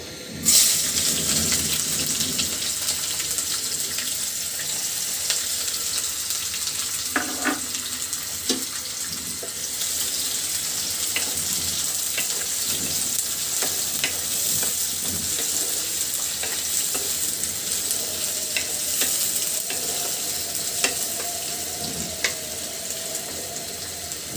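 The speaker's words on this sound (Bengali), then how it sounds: "তো এখন এর ভিতরে দিয়ে দিচ্ছি পেঁয়াজ কুচিগুলো" Chopped onions frying in a pan for spicy beef tripe fry, with a loud, continuous hissing sizzle throughout and occasional scrapes of stirring.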